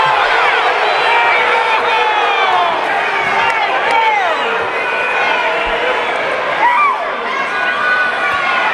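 A basketball crowd in a college tournament game roars and shouts in protest after a foul, a loud sustained clamor with scattered whistles and yells.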